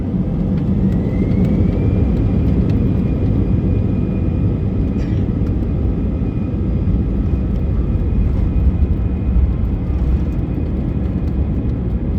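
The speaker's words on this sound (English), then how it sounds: "Taking off out of Edinburgh, we begin our 2-hour 10-minute flight over to Helsinki in Finland" Cabin view of an airliner taking off from Edinburgh bound for Helsinki: a loud, steady engine roar and deep rumble fill the whole stretch, with a thin whine riding on top.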